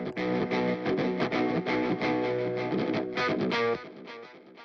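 Distorted electric guitar run through an MMS Clairvoyant amp sim plugin with delay, enhance and reverb, at 140 BPM, playing steady loud chords and notes alone, then ringing out into a fading delay tail.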